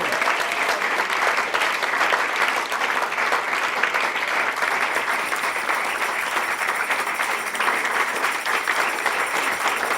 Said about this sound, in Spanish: Yo creo que Cristo merece un aplauso, pero un aplauso fuerte